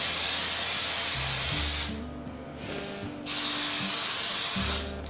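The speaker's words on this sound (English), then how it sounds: "So this has the spray plus the flour in it already." Two long, loud hissing blasts from an aerosol can of flour-containing baking spray, close by, separated by a short pause, with a low mechanical drone underneath.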